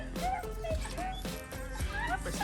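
An excited dog whining and whimpering at a homecoming, high rising whines repeating every half second or so, close and fairly loud, with a person talking over it.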